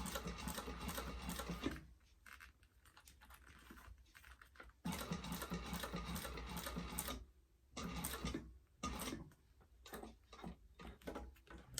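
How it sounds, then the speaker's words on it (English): A sewing machine top stitching a bag runs in several stop-start bursts of rapid, even stitching, close and moderately loud, with short quiet pauses and small clicks between runs. "you want to have nice top stitching"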